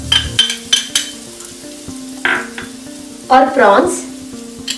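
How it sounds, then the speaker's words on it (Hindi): Ground stuffing masala hits hot oil in a pan for stuffed pomfret, with sharp bursts of sizzling and spattering between clinks of a spoon against the pan; a brief word is spoken. "पैन में तेल गरम हो गया है। अब हम इसमें डालेंगे पीसा हुआ मसाला"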